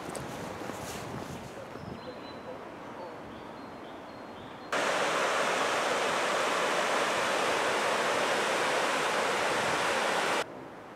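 River water rushes beneath the arches of the Forth & Clyde Canal, first as a softer wash with wind, then a loud, dense, steady roar for several seconds before it drops away again.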